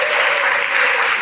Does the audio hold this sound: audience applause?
yes